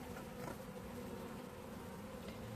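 Honeybees swarm around an open hive, producing a dense, continuous buzzing drone that stays steady and close throughout, with no voices.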